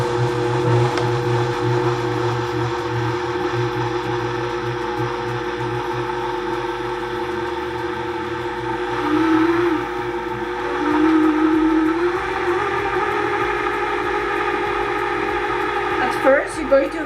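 Electric mixer working apple pie dough for a traditional Polish szarlotka, a loud continuous motor whine that holds steady and rises in pitch partway through, running on its own without speech.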